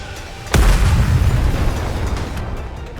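Missiles firing wildly and exploding in the Nikke video game: a sudden loud blast at about half a second, then a rumbling, crackling roar that slowly fades over the next few seconds.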